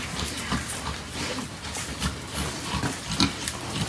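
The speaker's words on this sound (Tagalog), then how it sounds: "O, ito na yung isang baboy." Low grunting from a pig, several short snorts and grunts scattered over a noisy outdoor background, with a louder grunt near the end.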